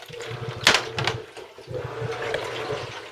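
A Giantex compact washing machine sloshes and fills with water, with a sudden splashing surge followed by uneven gurgling and swishing at close range.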